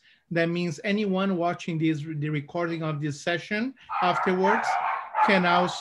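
Dogs bark repeatedly in the background, a run of short sharp yips and barks, while someone talks steadily over them during an online conference session.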